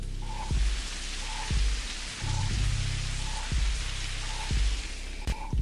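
Steady hiss of rain falling outside in the game Necrobarista, with soft repeating low thumps and brief tones recurring about once a second beneath the downpour.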